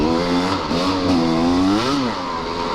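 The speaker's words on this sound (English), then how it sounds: "When I pop myself on this little KTM 300, it's literally like a ride in the park" A KTM 300 two-stroke dirt bike being ridden gives a steady, loud engine drone with rising and falling revs throughout, close to the microphone and with no speech.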